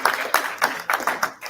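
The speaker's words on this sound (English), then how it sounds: "So everybody, please give a round of applause to them for putting this on every year." Scattered audience applause at a winter lecture put on by a viaduct society, a handful of sharp clapping bursts in a loose uneven rhythm filling a short stretch of a hall.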